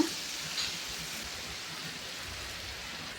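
Chopped onions dropped into hot oil with mustard seeds for a brinjal masala, giving a steady, fairly quiet hiss and sizzle that holds evenly throughout with a faint pop near the start.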